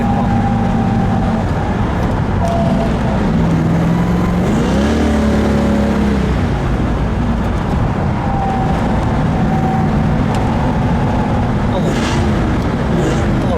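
A 1971 Ford Mustang 429 Cobra Jet with a four-speed cruises on the road, its engine droning steadily from inside the car, with one clear shift in pitch and constant road noise.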